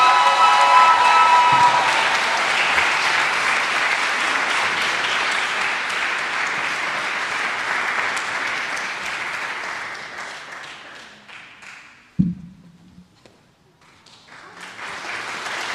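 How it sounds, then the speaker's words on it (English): Audience applause at a spring choral concert, a sustained wash of clapping that fades out around twelve seconds, followed by a short thump and the start of renewed clapping near the end. "we can give them all applause as they come up"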